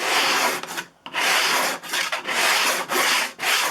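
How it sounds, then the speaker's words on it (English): Close, loud block sanding of Evercoat body filler on an aircraft body rasps back and forth in a steady rhythm, with brief pauses between passes. "I'm now sanding against those sanding ridges that were left in the Evercoat"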